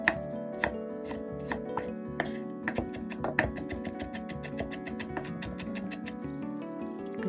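A knife chops onion finely on a cutting board for tartar sauce, with quick, steady, close taps that speed up into a rapid rhythm, and no talking.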